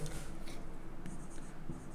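Pen or chalk writing during a Hindi chemistry lesson on atomic orbitals, a steady scratchy scraping that runs continuously and fairly close for about two seconds, with no speech over it.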